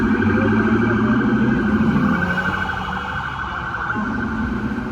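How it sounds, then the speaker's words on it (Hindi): A wailing ambulance siren sweeps steadily over loud street traffic in Jersey City, rising and falling as it passes close by, with no voices. "ये निकल जाए यार एम्बुलेंस।"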